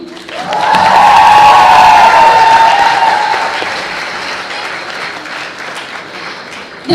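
Loud, steady applause from an audience at a university student spring festival show, swelling in the first second and sustaining before gradually thinning out, with faint cheering mixed in.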